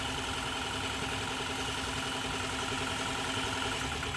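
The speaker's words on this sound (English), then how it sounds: "That one definitely made a misfire." A 2010 Toyota Camry engine idles with a cylinder misfire, a faint, steady mechanical drone heard close and alone without any talk.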